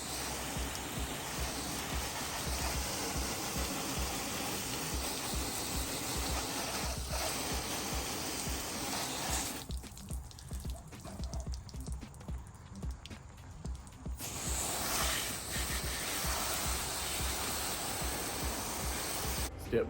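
Water spray rinsing a truck tailgate, a steady broadband hiss of running water filling the whole stretch, dipping briefly in the middle before resuming, with no talk.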